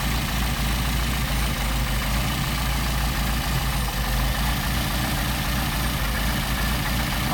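A Mercedes 190SL engine with Solex carburetors idling at about 750 RPM, a loud, steady low rumble with an even pulsing beat throughout, close and uninterrupted.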